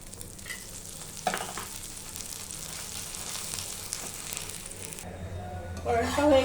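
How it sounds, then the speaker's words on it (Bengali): An onion paratha fries in oil on a hot tawa with a continuous crackling sizzle, a sharp pop partway through, and a clatter and voice near the end. "উলট পালট করে তেল দিয়ে ভেজে নেব"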